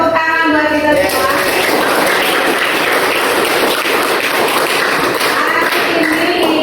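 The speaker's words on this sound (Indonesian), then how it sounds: "tepuk tangan buat kita semua" A morning school audience bursts into sustained, dense applause, many hands clapping at once for several seconds, loud and close, with a voice faintly audible at the start.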